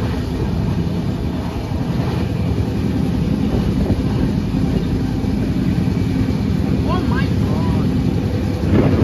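The Howrah–SMVD Duronto Express 12245 rumbles along at speed, heard from inside the train as a steady low roar with faint rhythmic rattling, while voices talk over it.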